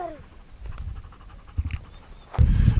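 A hunting dog tracking wild boar pants in quick, rough breaths close by, ending in a louder burst of breathing and movement near the microphone.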